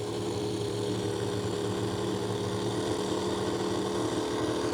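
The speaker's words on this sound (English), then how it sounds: "And keep his engine firing." Large truck engine running at a 1986 mud bog event in Kennett Square, a steady droning rumble heard continuously at moderate distance with no talk.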